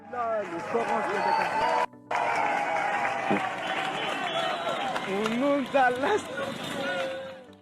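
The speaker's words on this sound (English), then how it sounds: "onlookers can be heard cheering and whooping in support of Mamadou" A crowd of onlookers cheers and whoops in support of a rescuer, excited voices rising and overlapping in a continuous loud babble with a few sharper shouts, running throughout with only one brief dropout.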